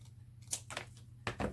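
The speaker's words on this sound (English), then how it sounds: "And I'm just going to trim it myself." Scissors trim a sheet of cardstock while a Christmas card is made, giving three or four short, crisp snips at a quiet, close level over a low steady hum.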